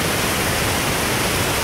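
A waterfall with rapids along Vildmarksvägen in Sweden roars steadily, a dense broadband rush of water heard close and loud throughout.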